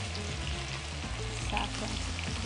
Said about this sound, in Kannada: ಇದೇನು ಫುಲ್ ಫ್ರೈ ಆಗಬೇಕು ಅಂತಲ್ಲ, ಯಾಕಂದ್ರೆ ಇನ್ನೊಂದ್ಸತಿ ಫ್ರೈ ಮಾಡ್ಕೊಂತೀವಿ ನಾವು.